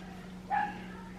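A single short dog bark or yip, fairly faint, over a steady low hum in a quiet room.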